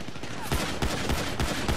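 Combat pistol shots ring out in Grand Theft Auto 5, several quick bursts of gunfire in uneven succession, loud and close within a busy game soundscape.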